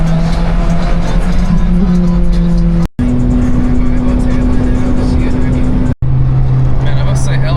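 Car cruising through empty Los Angeles streets late at night, a steady engine drone and road roar filling the clip with shifting engine pitch between gear changes and brief dropouts, no other traffic evident.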